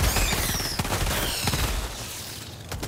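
Rapid bursts of automatic gunfire in the video game Helldivers 2, loud dense volleys of shots crowding the first half, then thinning into scattered reports toward the end.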